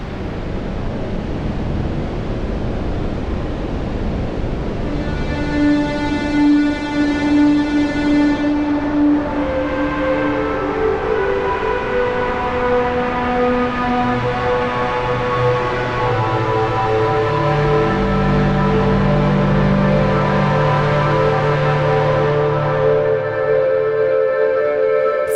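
Katla synthesizer noise generator sent through its filter and colored by a tilt EQ, a steady loud hiss with sustained tonal drones and shifting pitched bands sliding in and out, alone without talk.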